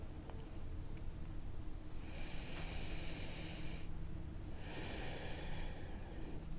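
Slow, soft breathing during a prenatal yoga session: two long airy breaths, each lasting a couple of seconds with a pause between, heard close and quiet over faint room hiss.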